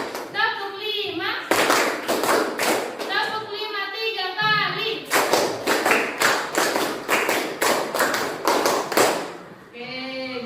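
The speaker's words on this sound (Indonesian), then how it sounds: "Tepuk satu, tepuk dua, tepuk tiga, tepuk empat" Children clapping together in a rhythmic counting clap game in a classroom, sharp regular claps in bursts alternating with children chanting aloud.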